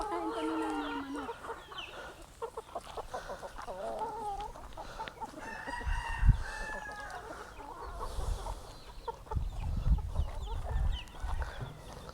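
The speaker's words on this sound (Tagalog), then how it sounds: "Pakain kami ng mga manok." Chickens cluck and a rooster calls in a busy farmyard at feeding time, with several birds vocalizing at once and occasional low thumps underneath.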